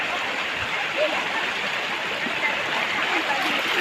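Steady rushing of a flowing stream after early monsoon rains, a broad constant wash of water at moderate level with faint gurgles.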